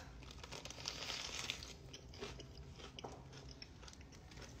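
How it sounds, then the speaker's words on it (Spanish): Someone chews raw lettuce leaves close up, giving steady crisp crunching and crinkling bites throughout, fairly quiet with no talking. "Masticalo bien."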